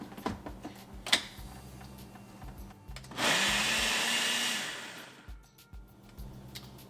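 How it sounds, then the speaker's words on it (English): A blender purees tomatoes with a couple of tablespoons of cooked rajma kidney beans into a thick sauce, a single loud whirring burst of about two seconds standing alone, with scattered kitchen clatter around it. "put the tomatoes in the blender"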